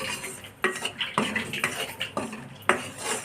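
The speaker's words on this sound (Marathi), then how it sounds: "चांगलं हलवून घ्यायचं आहे चांगलं खालून" Sesame chikki syrup is stirred in a pan over low heat for Makar Sankranti til chikki, a spoon scraping and knocking against the metal in several distinct strokes over a steady background.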